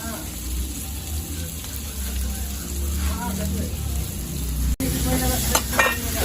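Onions fry loudly in a pan for a crab fry, a dense close sizzle with occasional clinks and scrapes of a spatula, steady throughout with a brief dropout near the end.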